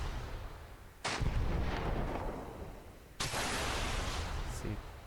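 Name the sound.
weapons firing in Command Modern Operations video game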